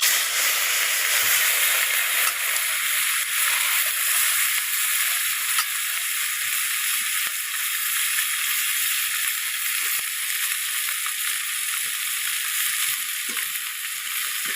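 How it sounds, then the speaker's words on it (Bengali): Mustard seeds and dried red chillies tempering in hot oil make a loud, continuous sizzle close up, with tiny crackles and pops running through it for the whole stretch. "তেলটা গরম হয়ে গেছে এর মধ্যে সর্ষে শুকনো লঙ্কা দিয়ে ফোড়ন দিয়ে দিচ্ছি"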